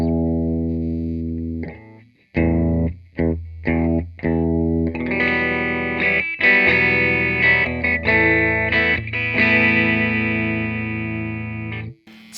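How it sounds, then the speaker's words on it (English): Loud, crunchy electric guitar through a 1973 Peavey Classic 212 amp, chords rung out and cut off in bursts, then sustained ringing chords with a gritty edge. "this thing gets really, really loud, and right on the cleans, you can hear that bite come through"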